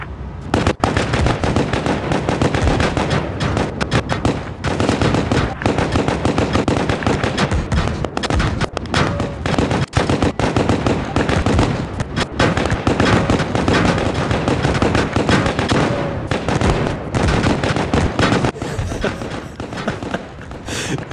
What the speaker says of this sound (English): completely have them surround us, and all start firing just to see what this looks like